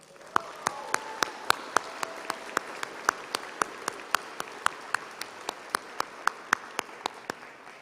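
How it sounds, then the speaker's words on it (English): Applause at a 2021 high school graduation ceremony, a fairly faint crowd clapping beneath one sharp, regular clap standing out near the microphone in a steady rhythm, continuing throughout. "deserves a round of applause"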